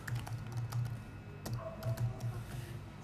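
Computer keyboard shortcuts tapped out during an iptables firewall logging setup on a Linux server: quick, close, clicky keystrokes in an uneven run of taps and short bursts, with no talking.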